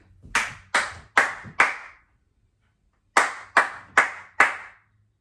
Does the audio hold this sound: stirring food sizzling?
no